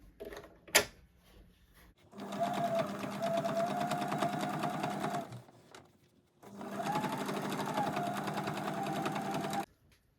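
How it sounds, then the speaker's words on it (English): Two steady bursts of a sewing machine re-sewing a side seam on a Chloe-style tote bag, close and loud, separated by a short pause, with a sharp click just before the first run. "I will just sew that side again"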